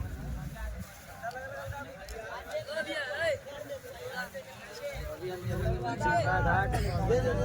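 Passengers chatter on a crowded boat in Varanasi during the Panchkosh Yatra pilgrimage. Many voices blend into a low, steady babble close around, with the hum of the boat underneath, quiet overall and swelling toward the end.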